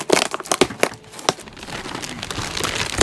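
New gear is unwrapped from its packaging, giving close crinkling and rustling of plastic or paper with sharp crackling bursts early on, then a softer continuous rustle.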